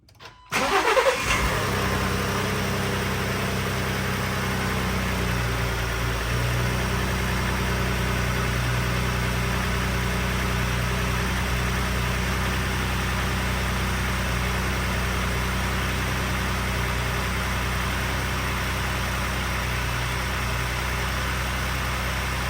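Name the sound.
Ford F-150 engine starting and idling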